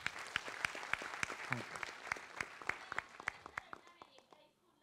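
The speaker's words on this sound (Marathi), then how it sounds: "हर्षवर्धनसाठी जोरदार टाळ्या वाजवा" Applause from a live audience interaction show: a close, rhythmic burst of clapping with distinct sharp claps that thins and fades toward the end, with talk faintly underneath.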